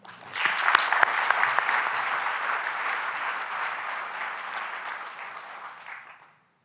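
Audience at a university awards ceremony applauds a staff award recipient, a steady swell of clapping that builds quickly, holds evenly for several seconds, then fades out, fairly close with no talk.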